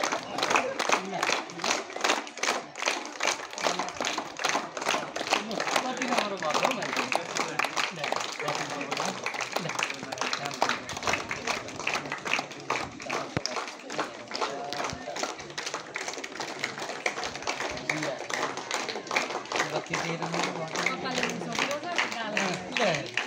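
Continuous applause from an audience at a school ceremony honouring students, steady dense clapping that runs unbroken from start to finish at moderate distance.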